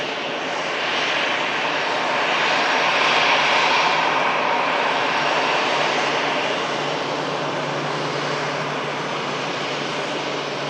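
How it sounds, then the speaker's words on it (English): An Emirates airliner taxis toward runway 23 left at an airport, a loud, steady jet engine roar that swells slightly and holds throughout with no talking. "finishes off its taxi as it enters runway 23 left for departure back to the Middle East."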